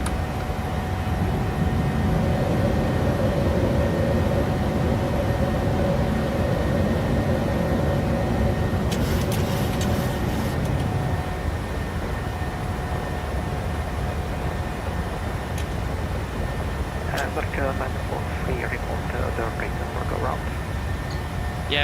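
A PMDG airliner goes around in Microsoft Flight Simulator 2020, its engines giving a steady, loud roar that fills the background while pilots talk over it.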